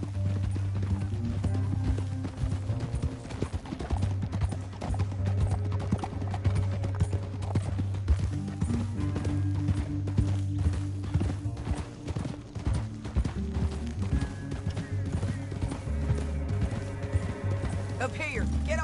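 Horse hooves galloping in Red Dead Redemption 2, a rapid continuous clip-clop running throughout over a loud droning musical score, with brief voices in places.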